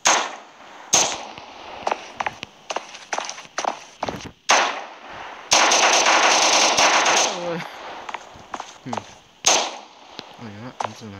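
Gunfire in the video game Prop Hunt, sharp single shots and bursts of rapid automatic fire with a long sustained volley in the middle, loud and close, with voices speaking between shots.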